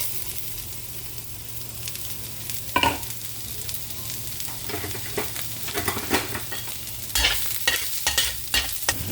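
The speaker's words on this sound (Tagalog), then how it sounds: "Lagyan natin ng mantika. Initin natin. Lagyan natin ang sibuyas." Onions fry in hot oil in a pan for a Thailand-style dish, a steady close sizzle broken by bursts of stirring scrapes and crackling pops.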